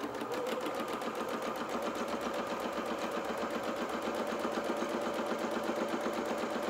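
A domestic sewing machine runs continuously while chain piecing fabric, a fast, even mechanical whir with rapid rhythmic needle ticking, close and alone.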